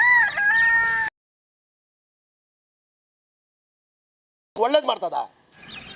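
A rooster crows loudly and close by, a single drawn-out call, followed by silence and then a burst of harsh clucking.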